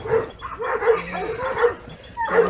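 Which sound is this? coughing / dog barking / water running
dog barking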